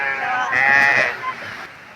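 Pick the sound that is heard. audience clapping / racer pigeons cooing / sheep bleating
sheep bleating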